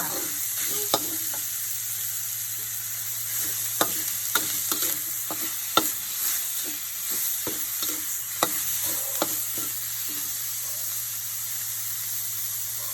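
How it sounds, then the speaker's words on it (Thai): Minced pork with garlic stir-fried in a hot pan: a steady sizzle with a hiss behind it, cut through by repeated sharp scrapes and taps of a spatula at an uneven rhythm, close by, with no talk. "เราผัดหมูให้ สุก ไม่ต้องสุกดีนะคะ"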